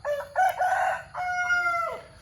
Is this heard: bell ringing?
no